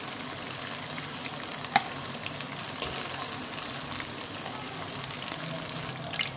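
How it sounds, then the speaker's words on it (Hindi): Okra frying in ghee: a steady, soft sizzle and bubbling in the pan with a couple of faint clicks, quiet and continuous throughout. "भिंडियाँ अच्छी तरह हो चुकी हैं घी में फ्राई।"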